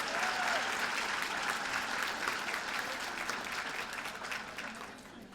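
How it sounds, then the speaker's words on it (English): A luncheon audience applauds in a broad, steady wash of clapping that fades gently toward the end, with a faint murmur of voices underneath. "So a big round of applause to the incredible Rosie Arroyo."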